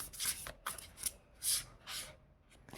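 Tarot cards are shuffled in soft, quiet bursts of papery riffling and rubbing, about five strokes spaced irregularly, close up with no speech.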